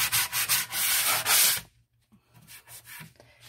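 Hand sanding over dried wood putty on a cabinet, a run of steady, close scratchy strokes in quick rhythm that stops partway, followed by fainter, scattered light rubbing.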